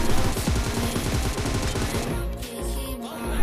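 Automatic gunfire in the BGMI battle royale mobile game, rapid dense bursts of shots that fire continuously for about two seconds, then break into sparser clatter.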